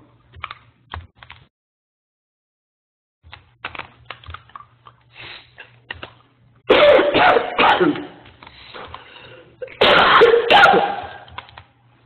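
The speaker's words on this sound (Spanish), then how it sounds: "perdón por la tos, pero bueno, me da como ataque" A person coughs repeatedly in harsh, loud bursts, with a couple of quieter hacks and throat clearing early on before two heavy coughing fits.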